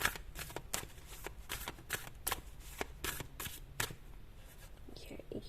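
Deck of cards being shuffled up close: a run of crisp riffling bursts with short pauses between, fairly loud and clear, and a voice is faintly present in the background.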